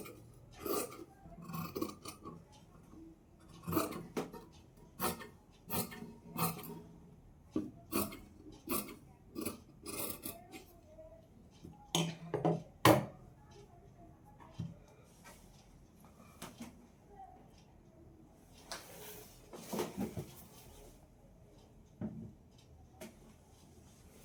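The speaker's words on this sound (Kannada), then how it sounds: "ಈಗ ಈ ಒಂದು ಮಾರ್ಕಿಂಗ್ ಪ್ರಕಾರ ನಾನು ಈ ಒಂದು ಕ್ಲಾತ್ನ ಕಟ್ ಮಾಡ್ಕೋತೀನಿ" Scissors cut through blouse cloth along chalk markings, giving a series of crisp, close snips and rasping slides in uneven bursts, with quiet pauses between cuts and no talk.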